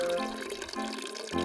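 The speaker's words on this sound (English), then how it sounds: "Fill my glass with delicious water." Water pours into a glass in short, bubbling bursts with brief pauses between them. The pour is close and fairly quiet.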